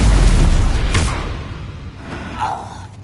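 Confringo fire spell blast in the Hogwarts Legacy video game, a loud booming explosion at the start that rumbles and fades over a few seconds, with a brief whooshing burst later.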